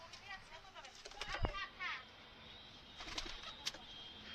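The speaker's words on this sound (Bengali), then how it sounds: "এই জোড়াটা ধরে দেখানোর চেষ্টা করছি। খুব ছটফটে পায়রা।" A restless pair of pigeons held in the hand, giving bursts of wing flapping and scuffling with soft cooing nearby, while voices murmur faintly in the background.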